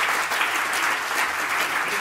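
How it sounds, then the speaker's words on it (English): An audience applauds a panel at the close of a discussion: two seconds of dense, even clapping from a crowd, steady and fairly loud with no break. "If I can get a round of applause for our wonderful panel."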